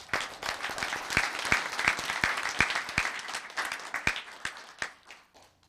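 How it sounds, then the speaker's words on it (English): Applause at a Los Gatos town council meeting honoring public service: a small crowd's dense, continuous clapping with a few louder individual claps, tapering off near the end, with no talk. "Let's give them a big round of applause"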